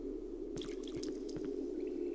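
Water dripping and splashing in a flooded water level of the horror game Cry of Fear, with several soft, irregular drips over a steady low ambient hum.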